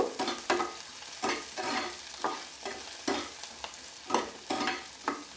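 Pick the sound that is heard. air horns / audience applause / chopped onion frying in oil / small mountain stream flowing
chopped onion frying in oil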